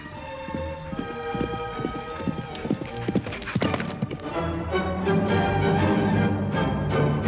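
Horse hooves clip-clop in a brisk, regular rhythm at fairly close range, mixed with a brief whinny and some scuffling, with no talk over the steps.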